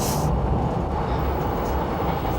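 A train riding on rails, a loud, continuous rolling rumble with a brief hiss at the start, heard steadily throughout with no talk.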